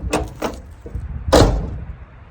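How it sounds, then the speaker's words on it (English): A 1974 Dodge Charger's door shuts with a solid thump after a few lighter clicks and rattles from the handle and latch, all close by. "If the door is shut that nice"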